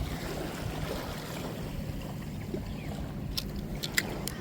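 Waves lapping around a small fishing boat near World War 2 ruins, a soft continuous wash of water with a few light splashes and knocks toward the end, fairly quiet and without talk.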